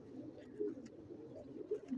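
Red-marked fancy pigeons coo softly in a loft, low throaty calls repeating over a quiet background with no talk.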